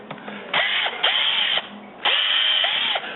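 A power screwdriver loosens a screw during a subwoofer and amplifier install in a 2003-2008 Toyota Corolla, running in two long close, loud whirring bursts with brief pauses and small pitch dips, with no talking.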